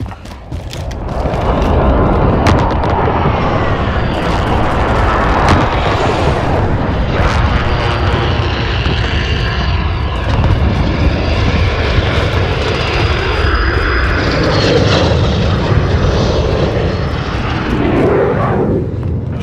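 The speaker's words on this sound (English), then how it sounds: "Be advised, friendly precision airstrike inbound." Jet aircraft roaring overhead during a precision airstrike in Call of Duty Modern Warfare, a loud continuous engine rush with sweeping pitch and rumbling low end that swells and fades through the whole stretch.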